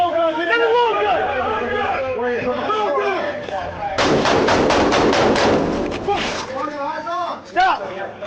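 Loud rapid volley of gunshots fired by police during a standoff outside an apartment, a dense burst of cracks in the middle with shouted voices and radio talk before and after.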